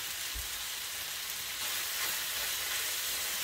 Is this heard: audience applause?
no